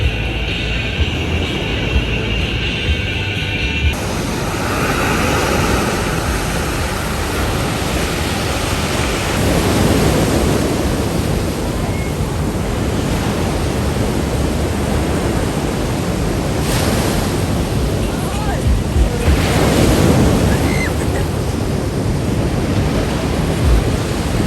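Sea waves wash against a shore at Trioze'ye, a steady, loud broadband rush with swells building and breaking, while a light wind blows across the beach.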